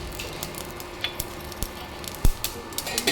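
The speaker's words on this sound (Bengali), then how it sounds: "এবারে যে ডালে কিছু সর্ষে ফোড়ন দেবো" Mustard seeds crackle and spit in hot oil as a tempering for vegetarian dal, a steady close sizzle broken by scattered sharp pops.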